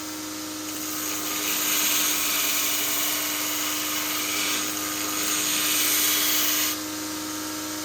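Grinder working a W-2 steel knife blade, giving a steady, close, high-pitched grinding hiss that swells and eases as pressure changes, then drops back to the motor's running whine.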